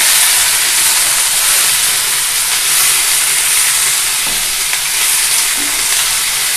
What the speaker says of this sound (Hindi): सब को डाल के इसे अच्छे से चलाते हैं।